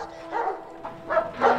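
Dogs bark at a military base in a scene from the Terminator film, with a few separate yips and barks spread across a short span at moderate loudness and a low background hum beneath them.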